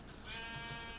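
A Minecraft sheep gives a short, wavering bleat, a single nasal call lasting about a second, clear and close.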